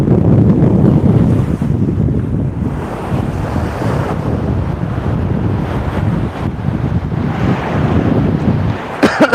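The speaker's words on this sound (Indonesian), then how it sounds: "Ombaknya lumayan luar biasa ini, besar ya" Large ocean waves surging and crashing on a southern beach, a loud, continuous roar of surf mixed with heavy wind buffeting the microphone, no talking.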